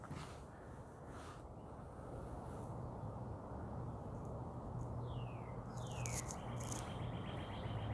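Birds in an early-spring woodland garden at an arboretum chirp faintly in the distance, a few thin calls and sliding whistles rising over a steady hiss of outdoor ambience and a low hum.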